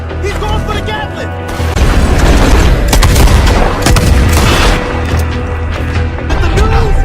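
Gatling gun blasting in a Red Dead Redemption 2 gunfight, a dense, loud stream of booming shots and crashes layered over continuous in-game sound for the full stretch.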